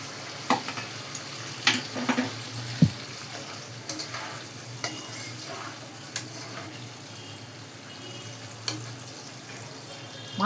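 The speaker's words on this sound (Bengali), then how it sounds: "আমি এখন এই জলটা ঝোলের জন্যে পরিমাণ মতন এর মধ্যে ঢেলে দিচ্ছি।" Water being poured into a hot pan for a Bengali fish curry, a steady hiss and bubbling with scattered clinks and taps of utensils against the pan, fairly quiet and close.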